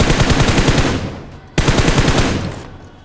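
Loud, close automatic gunfire in the battle royale game BGMI, two sustained rapid bursts of shots separated by a brief pause, each trailing off as it ends.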